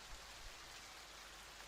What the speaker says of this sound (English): Yes, that rain sound.